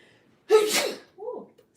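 A single sharp, loud sneeze bursts out close to the microphone, followed by a brief softer exhalation or murmur, in an otherwise quiet indoor room.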